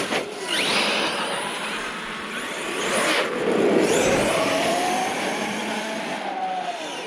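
An Arrma Kraton 8s RC truck with a non-stock motor whines through repeated accelerations, high electric motor pitch sweeping up and down with tire and drivetrain noise, moderately near and continuous.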